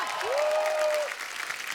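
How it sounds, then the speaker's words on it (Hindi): Dense, steady applause from an audience fills the moment, with a brief rising whistle-like tone cutting through early on. "यार एक बार जोरदार तालियां"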